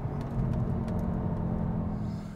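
A CUPRA car engine runs in Cupra drive mode, a close, deep and steady rumble with a slight whir throughout that fades a little at the end.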